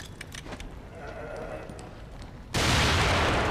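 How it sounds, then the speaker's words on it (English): A grenade goes off in The Evil Within video game: after quieter ambient game sounds, a sudden, loud, close burst of dense noise erupts and holds through the end. "I'm gonna have to use the nade."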